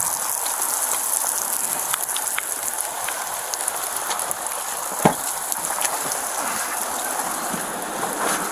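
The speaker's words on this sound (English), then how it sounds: "And now she got you standing out here in the rain." Steady rain falling on an outdoor street, a dense hiss of drops on surfaces lasting throughout, with one brief louder knock midway and no clear talking.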